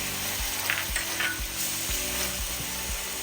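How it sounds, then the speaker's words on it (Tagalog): Onions caramelizing with soy sauce and oyster sauce sizzle steadily in a pan for orange chicken, with a rhythmic series of stirring scrapes about every half second under the constant hiss. "Caramelize natin konti yung ating onions."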